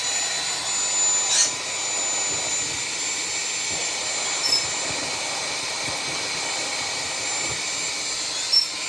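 A cordless, bagless Henry vacuum cleaner with V8 power runs continuously, a loud, steady whooshing roar with a thin high whine on top and faint bumps, close to the listener with no speech.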